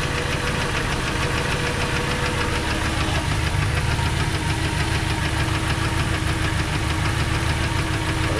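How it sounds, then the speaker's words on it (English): A car engine with a failed ignition coil idles roughly with a steady, uneven knocking rumble, loud and close, continuing without pause. "I'm staring at the motor running"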